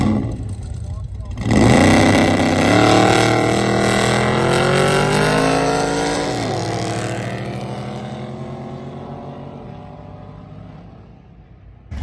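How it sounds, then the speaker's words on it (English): A drag racing car launches and makes a pass at a Ford versus Chevy drag event, its engine roaring loud as it accelerates through gear changes, then fading steadily as it runs off into the distance. "I think we got Tyler's third pass of the day here"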